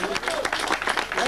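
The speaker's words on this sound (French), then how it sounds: "Allez, il faut les applaudir" Crowd applause at a 1998 downhill sports event at Le Gouray, a short burst of clapping mixed with a voice talking over it.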